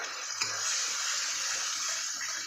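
Garlic paste blended with two spoonfuls of sour yogurt poured into a pan for a fish curry, giving a steady wet hiss and sizzle that runs loud and continuous from start to finish, with no voices.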